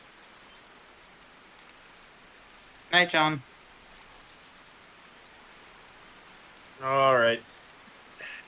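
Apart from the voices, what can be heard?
rain ambience in Metal Gear Solid 3 video game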